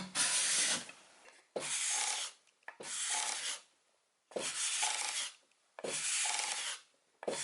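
A card scraper shaves fine curls from wood in five even, rhythmic strokes, each a dry rasping scrape separated by short pauses.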